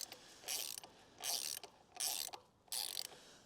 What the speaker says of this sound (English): if you have a ratcheting wrench like I do, it makes this job quite a bit quicker and easier